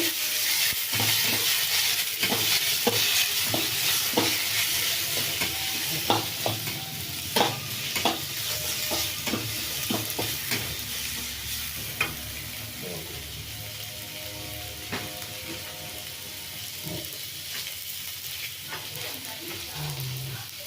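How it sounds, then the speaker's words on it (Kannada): Mint leaves and tamarind sizzle and fry in a pan for mint chutney, with steady stirring scrapes and taps over continuous close frying hiss and no talk. "ಸ್ವಲ್ಪ ಹುಣಸೆಹಣ್ಣು ಹಾಕ್ಕೊಳ್ತೀನಿ ಪುದೀನ ಚೆಂದ ಫ್ರೈ ಆಗಲಿ"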